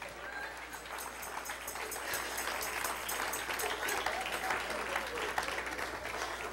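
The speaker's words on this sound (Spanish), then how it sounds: "Denle un aplauso al Señor." A church congregation applauds steadily and loudly throughout, a dense wash of clapping with a few voices mixed in.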